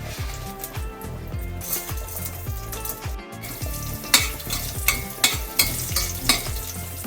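Urad dal sizzles and crackles in hot oil for lemon rice. A constant loud frying hiss runs alongside rhythmic stirring scrapes and light clinks against the pan.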